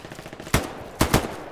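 Gunfire in the shooter game Hell Let Loose while aiming at red barrels: three sharp, loud reports, one near 0.5 s and a quick pair around 1.0–1.2 s, standing out over low background noise.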